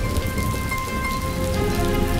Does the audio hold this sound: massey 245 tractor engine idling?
no